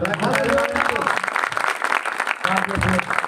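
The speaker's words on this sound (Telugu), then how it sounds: "చప్పట్లు కొడతారా?" An audience at a church meeting claps in a dense burst of applause, with a voice speaking over and around the clapping.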